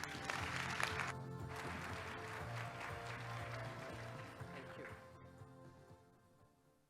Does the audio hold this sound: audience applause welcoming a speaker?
yes